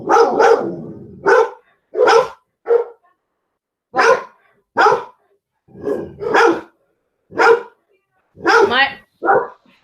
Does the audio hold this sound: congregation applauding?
no